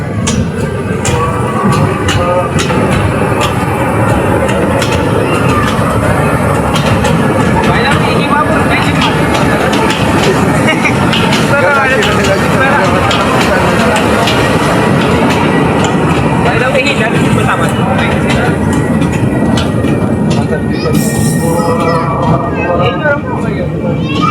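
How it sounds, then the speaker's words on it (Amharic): A train rumbles past close by in a park in Korea, loud and continuous, with rhythmic rattling of wheels and carriages; voices talk over the noise. "ባቡሩ ሊገጫል ነው"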